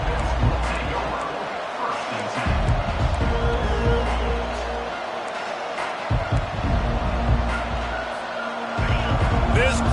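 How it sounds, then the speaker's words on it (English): A stadium crowd roars at a college football game between OSU and FSU, a dense, continuous wall of cheering heard under a commentator's voice. "This crowd bringing an ear-splitting welcome to their visitors."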